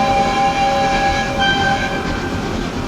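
Train horn blasts in the Transport Fever 2 simulation game, sustained tonal honks sitting over a steady rumble of rolling rail cars, loud and continuous through the whole stretch with no talking.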